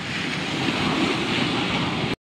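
Ocean waves on Puri beach roar as a dense, continuous wash of surf with some wind buffeting the microphone, loud and steady until an abrupt cutoff near the end.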